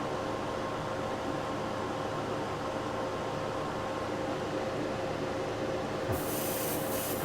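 A Black Widow airbrush fitted with a 0.5 needle and a fan cap sprays Createx paint over white. A steady close hiss of air and paint continues for the whole stretch at an even level, with no talk.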